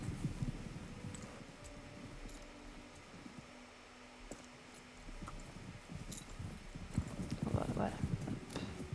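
Horse hooves clip-clopping in the video game Star Stable, a quiet rhythmic trot that grows busier toward the end, with a person talking over it.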